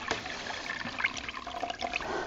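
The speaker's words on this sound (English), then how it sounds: "I don't wring it out, I just press down on it and get quite a lot of the water out" Water squeezed and pressed out of a wet, dyed raw Corriedale wool fleece, a steady close trickling and dribbling into a bucket with small splashy drips, continuous and fairly soft with no talking.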